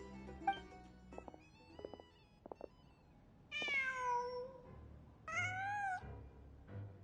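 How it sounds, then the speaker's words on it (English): A cat meows twice in a video game, two drawn-out, clear calls alone after a few soft clicks and ambient game sounds. "Just a cat."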